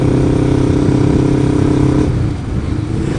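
A 2003 Kawasaki Ninja 500R motorcycle under way on a back road, its engine droning loud and steady with a harmonic tone that shifts slightly as the revs change partway through.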